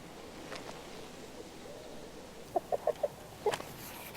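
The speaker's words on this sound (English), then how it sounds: "Quit that cheeping, you green Wait, freak. is that a chick in that barrel?" Chick hidden in a barrel in the video game King's Bounty 2, a quick series of small clucking cheeps, faint and close, over a quiet ambient game backdrop.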